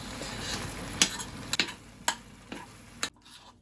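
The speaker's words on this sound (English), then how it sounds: "At first we mix the white parts of the egg" Eggs being beaten for a tomato omelette, with a utensil clicking against the bowl in sharp strokes about every half second over a soft steady hiss, close and moderately loud, no talking.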